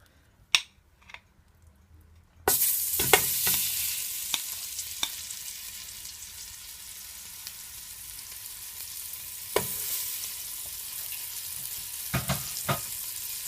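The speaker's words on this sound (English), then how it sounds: "I'm just gonna add half of stick of butter to the pot" Half a stick of butter melts in a pot for mac and cheese sauce, a steady soft sizzle beginning after a couple of clicks and carrying on, with a few sharp clinks of a utensil against the pot.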